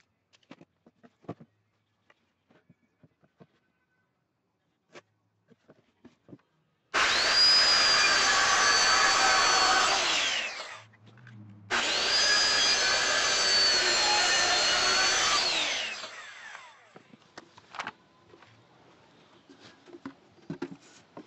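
A power saw cuts wood pieces for a turtle enclosure, making two loud sustained whining cuts of a few seconds each, separated by a short pause, with scattered clicks and handling before and after.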